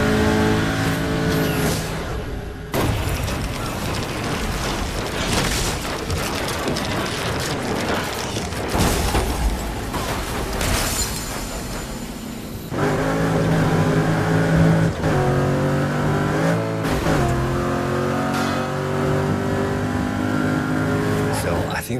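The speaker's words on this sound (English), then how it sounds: "All you have to do is to drive this car." A car in the racing video game Burnout Paradise drives and revs loudly for a long stretch, its engine rising and falling with shifts and bursts, with someone talking over it throughout.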